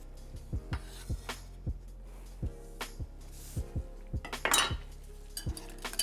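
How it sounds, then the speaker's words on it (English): A large whisk in a bowl of sandwich sauce, giving a series of distinct clinking taps as the metal hits the bowl in an uneven rhythm, close and fairly quiet, with no talking. "Give that a little whisk."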